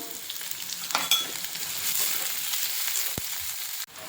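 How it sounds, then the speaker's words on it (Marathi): Green chillies and onion fry in a pan for a Khandeshi leafy vegetable dish, giving a steady close sizzle with a few light clinks of a utensil against the pan and no speech. "हिरव्या मिरच्या घालायच्या मिरच्या थोड्या फ्राय झाल्या की नंतर कांदा घालायचा"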